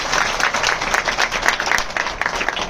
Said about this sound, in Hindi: एक बार तालियों से स्वागत करें